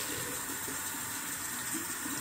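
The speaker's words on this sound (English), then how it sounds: "Got the hot water on" A hot-water tap runs in a steady, even gush of water that fills the whole moment with constant hiss, with no voices.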